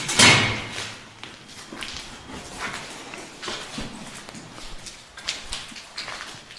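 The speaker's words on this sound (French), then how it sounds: "Porte coupe-feu." Heavy fire door in the basement of an abandoned sanatorium theatre pushed open, starting with a sharp clunk and followed by scraping, knocks and rattling as it is moved, fairly close.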